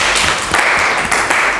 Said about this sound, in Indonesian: Lihat, tepuk tangan dulu.